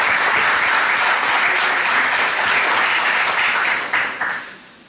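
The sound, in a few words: applause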